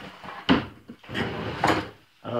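A junk drawer in a workshop cabinet slides open and shut, giving a few short wooden knocks and rumbling slides close by, with no talk.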